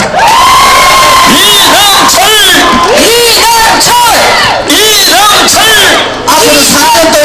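Dense crowd at an outdoor provincial governor election campaign rally in Goryeong, South Korea, cheering, clapping and chanting loudly and continuously, with shouted voices rising and falling throughout.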